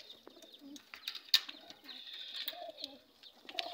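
Pigeons coo softly and repeatedly at close range, soft throaty calls overlapping with a few brief chirps and light rustling, with no talking.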